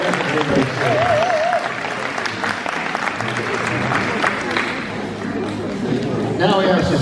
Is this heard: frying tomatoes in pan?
no